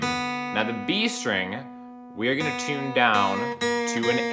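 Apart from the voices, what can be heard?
No distinct noise like a dog, phone or traffic.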